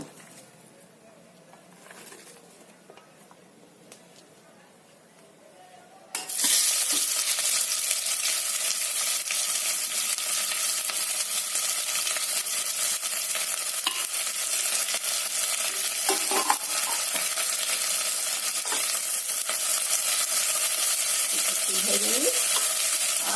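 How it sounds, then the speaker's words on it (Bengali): Two large onions fry in oil in a pan for a Kashmiri rogan josh: after about six seconds of quiet, a loud, steady sizzle starts and holds, with occasional stirring scrapes. "এই পেঁয়াজটাকে ভেজে নেব"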